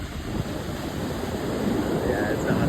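Ocean surf breaking at an Australian beach, a close, broad rushing roar of waves that builds slightly toward the end, with some wind buffeting the microphone.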